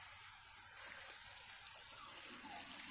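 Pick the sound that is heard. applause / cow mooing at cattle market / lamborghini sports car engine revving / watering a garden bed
watering a garden bed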